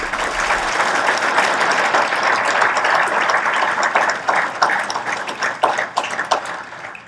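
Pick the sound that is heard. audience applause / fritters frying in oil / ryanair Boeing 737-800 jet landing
audience applause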